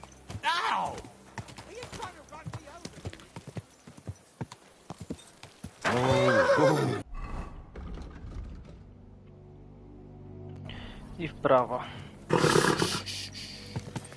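A horse in the medieval video game Kingdom Come Deliverance 2 clops along with hoof beats and snorts, with bursts of louder neighing or rushing noise, while someone talks over it.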